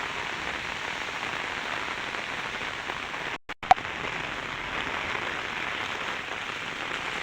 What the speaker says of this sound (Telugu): మన ఆ వర్షం శబ్దం డిఫరెంట్ ఉంటుంది కదా